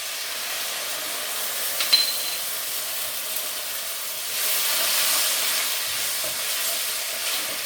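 Garlic and ginger frying with onions in a pan for a Chinese chicken curry, a steady close sizzle and hiss throughout, swelling slightly louder midway, with a brief clink near the start.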